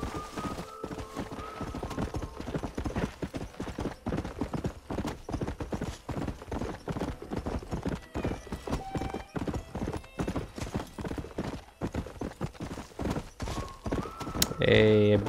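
Horse hooves clip-clop steadily in Red Dead Redemption, a rapid continuous trot close up with a few game tones and chimes over it near the end.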